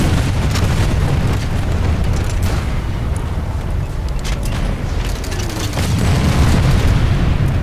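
Striker launcher fire and explosions in Planetside 2, a steady rumble of booms and blasts with sharp bursts layered through a dense, loud battle din, no pauses.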